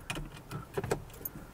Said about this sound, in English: So putting the key in